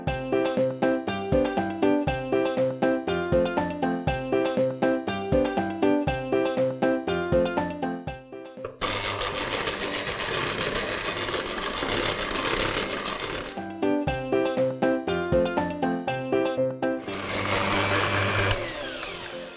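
An electric mixer whirs loudly as it beats buttercream of shortening and butter with added syrup, its motor droning steadily and close, interrupted by clicking, rhythmic stretches.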